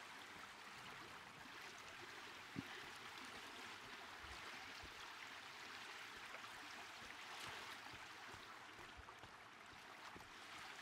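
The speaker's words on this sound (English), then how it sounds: "I hear water." Flowing water in the video game Sons of the Forest makes a steady, continuous rushing wash, like a nearby stream, alone with no talk and an even level throughout.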